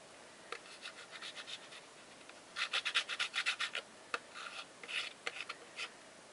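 A tool scrapes gouges into a layer of modeling paste, making rhythmic, raspy strokes in short bursts that grow stronger midway, with a sharp single scratch and quieter rubbing passes, close up and without speech.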